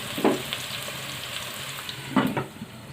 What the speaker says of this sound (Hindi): थोड़ा सा प्याज को और फ्राई कर लेते हैं।